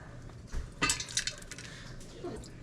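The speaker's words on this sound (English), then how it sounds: "And you put your pots close together so that way you don't drip all over the stove top." Metal pots clank and scrape on a stove top while grape jelly is made, a few close clinks and knocks with faint handling noise between them.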